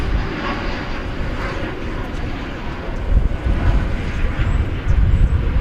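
A Delta Airbus A220 jet arriving at Dallas Fort Worth airport, a steady loud engine roar swelling slightly as it nears, with wind noise on the microphone.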